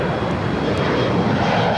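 An aircraft taking off from runway 25 right at Los Angeles International Airport, a loud, steady engine roar throughout this brief stretch.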